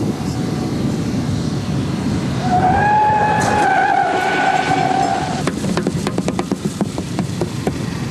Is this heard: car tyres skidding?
yes